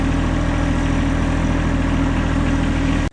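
A tractor engine runs steadily at a loud, close idle while its forks lift a homemade wood stove off a table, droning evenly throughout before cutting off abruptly at the end.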